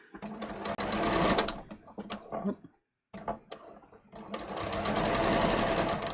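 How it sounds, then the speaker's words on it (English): A sewing machine runs a straight stitch through lining fabric and pleats, whirring in two loud bursts separated by a brief stop, with a light voice in the background. "So I'm just going to go to a straight stitch, stitch this one down."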